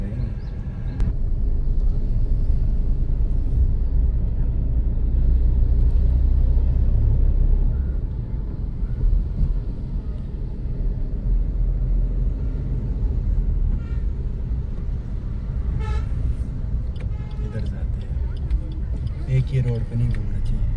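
Steady low engine and road rumble from inside a moving car in Dhalpur, Kullu, Himachal Pradesh, continuous and loud, with people talking over it.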